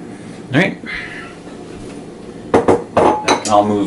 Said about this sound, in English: Let me get a spatula here. See if I can scrape most of this out.